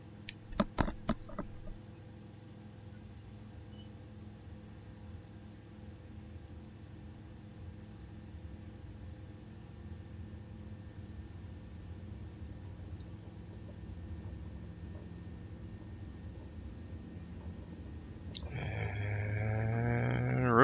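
Airplane engine hum during a takeoff roll on a small grass airfield in Microsoft Flight Simulator near Celle, Germany, steady and gradually swelling louder toward the end, with a few sharp clicks at the start; no talking.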